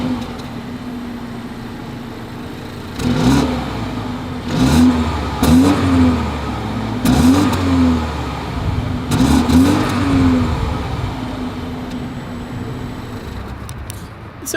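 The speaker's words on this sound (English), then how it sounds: "As always, here is that exhaust clip." 2022 BMW X2 engine revved through its exhaust: a steady idle broken by about four loud, sharp rev blips that rise and fall in quick succession before settling back to idle.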